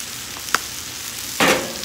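Seasoned onions stirred in a hot pan give a faint, steady sizzle, broken by a short scrape near the middle and a louder burst of frying toward the end.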